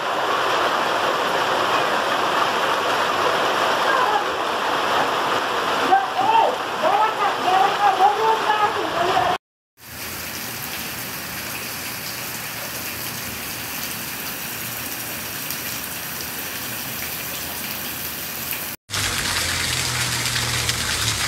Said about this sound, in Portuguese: Olha lá a chuva, menino. Na cidade de Patos, Paraíba.